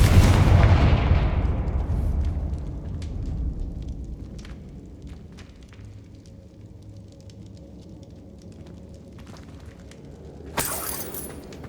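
A Confringo blasting spell in Hogwarts Legacy opens with a heavy boom whose rumbling tail decays over a few seconds, then quiet crackles and faint debris ticks follow, with a sharp burst near the end.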